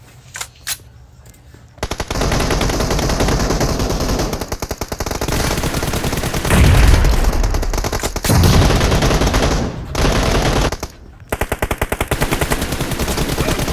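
Sustained automatic gunfire from the mobile battle-royale game PUBG Mobile, loud and dense bursts of rapid shots running nearly continuously with a couple of brief pauses.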